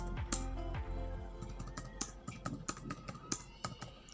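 Numbers being typed on a computer keyboard while working in Excel, a quick irregular run of close key taps that grows sharper and more distinct toward the end, with no talking.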